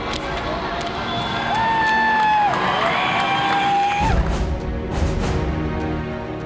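A packed arena crowd at an NCAA West Regional hockey game between Boston University and the University of North Dakota roars with sustained cheering and whoops, with a steady dense swell of noise throughout and a brief louder burst near the end.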